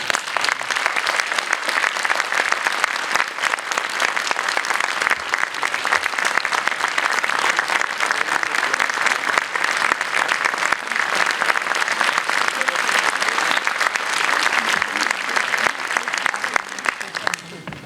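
Steady, dense concert audience applause welcoming a choir conductor at a music society's 75th anniversary autumn concert, loud and continuous throughout with little variation.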